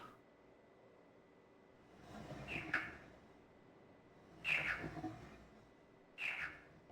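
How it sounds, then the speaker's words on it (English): A bird-like call in the video game Riven comes in three short bursts roughly two seconds apart, each a brief chirping cry over a quiet ambient hum, moderately near. "Sounds like a bird noise."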